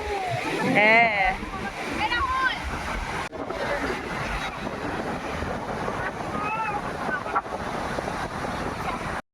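Evening sea waves at Puri beach roll in as a steady broadband wash of surf, with wind buffeting the microphone and voices calling and talking over it.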